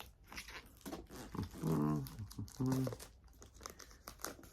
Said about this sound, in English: Remove the plastic